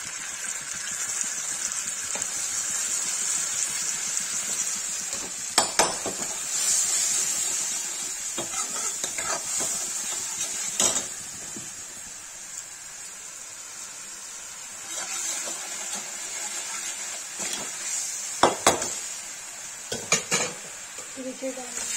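Pieces of karela (bitter gourd) fry in hot oil in a pan, a constant bright sizzle with intermittent clinks and scrapes of a stirring spoon, loud and close.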